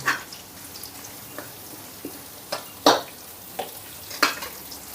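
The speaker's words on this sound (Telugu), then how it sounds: "మన అల్లం పచ్చిమిర్చి అయితే వేగేయండి" Ginger and green chillies with curry leaves frying in a pan for coconut rice, a low steady sizzle broken by occasional louder crackles and spatula scrapes, close with no talk.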